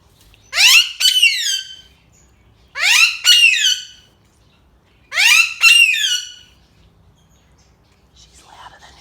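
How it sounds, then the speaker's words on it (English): A pet parrot calls loudly indoors early in the morning, with three strong, shrill squawking phrases of rising and falling notes, each about a second and a half long, spaced evenly apart with short silences between them. "while the rest of the house is sleeping, Ivy keeps singing the song of her people"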